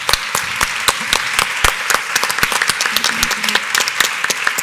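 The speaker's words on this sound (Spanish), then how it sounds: "Un aplauso, por favor, para todos los de la mesa." Audience applause at a panel discussion on social media and news media, a steady, dense patter of many hands clapping at close range, continuing throughout without voices.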